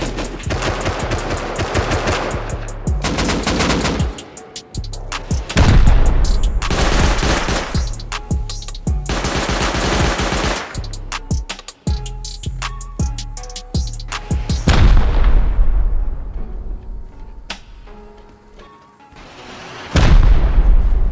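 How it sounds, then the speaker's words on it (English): Rockets and heavy gunfire pound a turret during a video game base raid, with loud rapid bursts of shots and booming explosions filling the whole stretch, briefly easing before another heavy volley. "Rocketing the turret, they're going to make quick work."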